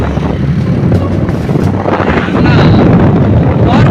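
Strong wind roars and buffets the microphone continuously, a loud, rushing outdoor gust with no pauses.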